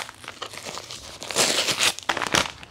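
Paper packaging of an Amazon book order being torn open by hand, a loud close rustle of crinkling and ripping in bursts over a few seconds, no talking.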